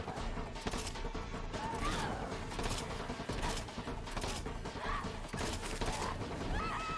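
The Night Flyer legendary pistol in Borderlands 3, fired rapidly. Quick bursts of sharp shots crack one after another over a constant noisy game backdrop.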